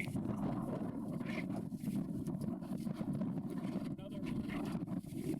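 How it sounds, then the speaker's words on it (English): Strong wind gusting outdoors at a cliffside overlook, a steady loud rumble of buffeting air and microphone wind noise throughout, with people talking over it. "It is so windy."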